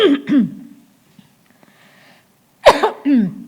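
Two bursts of throaty coughing during a church service, one at the start and another near the end, separated by quiet, close to the listener.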